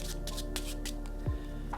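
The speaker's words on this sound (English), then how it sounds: "the spectator can begin by shuffling the cards" Playing cards riffled and shuffled by hand at close range, a run of short crisp ruffling bursts with a soft thump near the end, quiet and with no voices.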